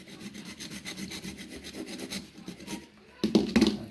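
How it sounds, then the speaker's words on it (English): A small hacksaw cuts through plastic toilet flush rods in quick, rhythmic back-and-forth strokes, close up, ending in a burst of louder scraping and rasping. "So I've just grabbed myself a little hacksaw."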